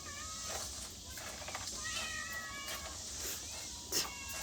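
Several cats meow repeatedly nearby, overlapping high cries in a busy cluster, with a faint voice in the background.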